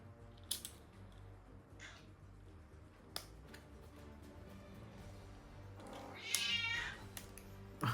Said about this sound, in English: got too occupied by the kitten meowing